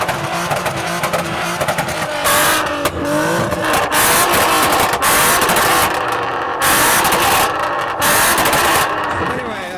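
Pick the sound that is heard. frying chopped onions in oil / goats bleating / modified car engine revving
modified car engine revving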